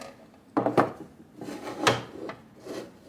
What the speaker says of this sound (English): So grab another drawer here.